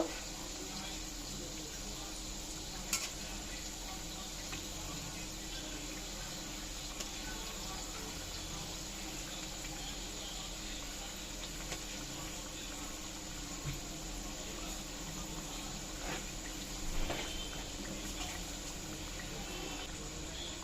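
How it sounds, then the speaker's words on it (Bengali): Palm pitha cakes deep-frying in oil give a steady, dense hiss that runs evenly throughout, with a faint clink or two as they are turned over. "এবার লাল লাল করে দুটো পিঠই আমি একটু ভেজে নামিয়ে নেব।"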